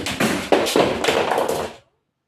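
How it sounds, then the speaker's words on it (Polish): Neon sign accidentally falling: a few close tapping and thudding knocks in quick succession with rustling, then abrupt silence. "przez przypadek spadło mój neon"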